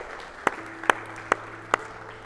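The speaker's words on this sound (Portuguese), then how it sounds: "Você pode aplaudir o Senhor Jesus por isso, por esse amor." A few isolated, evenly spaced claps, four distinct hand claps in a church service setting, over a low sustained tone in the room.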